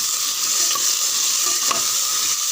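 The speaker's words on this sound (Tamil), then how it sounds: "நல்லா ஒரு 5 நிமிஷம் காயெல்லாம் நல்லா வதங்கட்டும்" Vegetables for sambar, including beans, broad beans and potato, sauté in a pan with a steady, close sizzle and soft stirring scrapes throughout.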